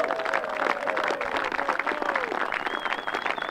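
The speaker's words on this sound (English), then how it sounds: "Well deserved applause from the crowd gathered there for the presentation." Outdoor golf crowd at the St Andrews Links Trophy presentation claps steadily in a dense wash of applause, with a few whistles rising above it and some faint voices mixed in.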